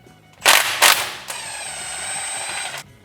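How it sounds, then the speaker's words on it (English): A Toyota 2UZ-FE crankshaft bolt is loosened with a ratchet up close: two sharp, loud mechanical bursts come first, followed by a sustained whirring, ringing tone that cuts off abruptly. "now we're going to remove this crank bolt"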